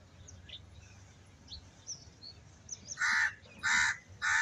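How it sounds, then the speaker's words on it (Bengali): Crows at a river ferry ghat on a winter morning, with several faint, scattered calls early on, then three loud, close caws in quick succession near the end. "পাখির ডাকাডাকি"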